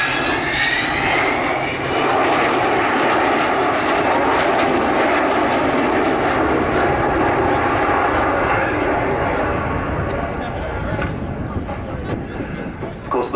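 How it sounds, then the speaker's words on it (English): An Avro Vulcan jet bomber, a 60-year-old aircraft, flies at the RIAT airshow, its engines producing a loud, continuous broadband roar with a rising whine that holds steady throughout. "Bear in mind, this is a 60-year-old aeroplane."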